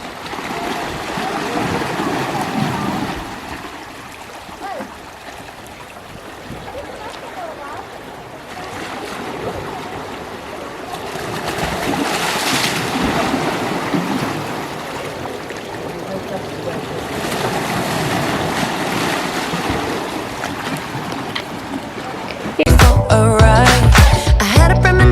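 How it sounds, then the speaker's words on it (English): Ocean waves at Salou wash in and out in slow, surging swells with wind noise, rising and falling over time, before music abruptly starts at the end. "Let's just listen to the sound of waves."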